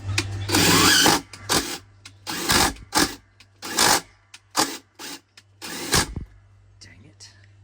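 A bolt on a Maytag Bravos top-load washer is run in and out, giving repeated bursts of scraping and rasping metal in an irregular rhythm over a steady low hum, with voices heard at times.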